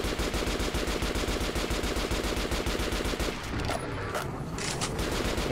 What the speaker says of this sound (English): Got a fucking machine gun, bro.